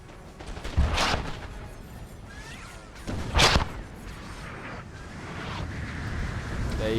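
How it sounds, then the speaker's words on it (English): Musket volleys in Napoleon Total War during a large multiplayer line battle near Moscow, two loud crackling fusillades a few seconds apart, followed by a rumbling wash of distant battle noise. "We're getting musket sounds again."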